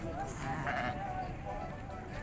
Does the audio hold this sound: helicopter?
no